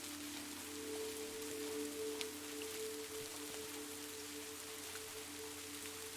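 Soft, steady rain patters on a window pane, a quiet even hiss with a few sharper drop ticks and a low constant hum beneath.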